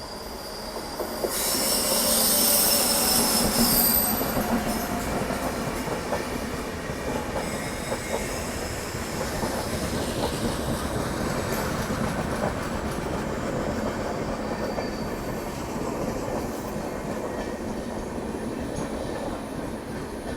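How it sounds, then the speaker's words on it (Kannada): The Hampi Express passenger train rolls into a station, a loud continuous rumble of wheels and carriages with rhythmic clatter and a brief high squeal of wheels near the start, close by and without talk. "ಬಂತ ನೋಡ್ರಿ ನನ್ನ ಫೇವ್ರೇಟ್ ಟ್ರೈನ್ ಹಂಪಿ ಎಕ್ಸ್ಪ್ರೆಸ್."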